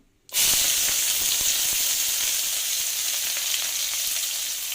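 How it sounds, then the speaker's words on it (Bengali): Bay leaf and garlic hitting hot oil in a wok burst into a loud, steady sizzle that starts abruptly and holds constant and close, with faint stirring ticks underneath. "কড়াইয়ে তেল দিয়ে তেজপাতা দিয়ে দিচ্ছি, দিয়ে দিব রসুন,"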